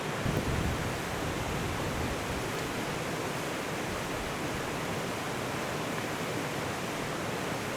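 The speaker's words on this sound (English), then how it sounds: "Look at the amount of water flowing through" White-water rapids below a waterfall on the Bloomfield Track in Cape York roar as a dense, constant rush, loud and unbroken throughout with no voices.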